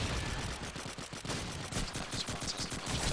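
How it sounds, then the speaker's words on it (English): MP44 submachine gun fire in a competitive online shooter match, heard as loud, dense rapid bursts of automatic shots with overlapping gunfire running through the whole stretch. "As Martas gets 2 kills with the MP44 to Dane and to Jordan"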